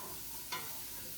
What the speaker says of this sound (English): I am softening my vegetables here.